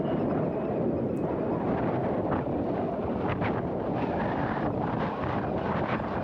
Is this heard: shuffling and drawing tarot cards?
no